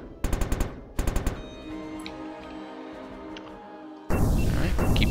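Weapons and missiles firing in the space strategy game Interstellar Space: Genesis: two quick bursts of rapid staccato shots, a quieter humming stretch with faint tones, then a loud dense barrage of fire.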